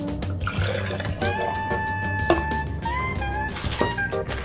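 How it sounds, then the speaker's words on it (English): Unbranded water, 300 ml, is poured into a container, a close liquid splash and trickle with ringing tones rising as it fills, running steadily throughout. "Take 300 ml of unbranded water."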